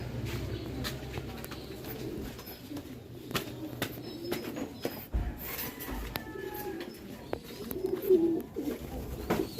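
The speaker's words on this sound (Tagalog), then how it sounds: "first bird natin yan si Batman second bird si Wapo" Pigeons coo softly and flutter at a racing pigeon loft after a toss, with faint scattered calls, wingbeats and small knocks over quiet background noise, and someone talking quietly now and then.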